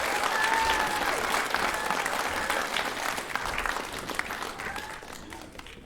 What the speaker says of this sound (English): Please give them a round of applause as they go off stage.